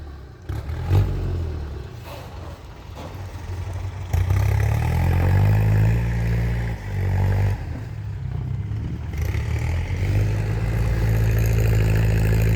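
A heavy diesel tractor engine idles nearby with a low, throbbing chug, occasionally revving up and settling back into a steady rumble.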